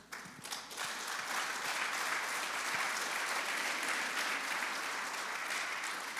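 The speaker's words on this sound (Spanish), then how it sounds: "Y tenga cuidado que si ese aplauso no es auténtico" Congregation applauding in a church, a steady, full roll of many hands clapping that builds after a few scattered early claps and stays dense and moderately distant to the end.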